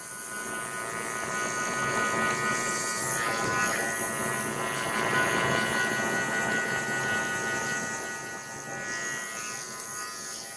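Electric hair clippers buzz steadily and close during a drop fade haircut, a continuous motorized hum that swells slightly midway and holds without a break, with no talking over it.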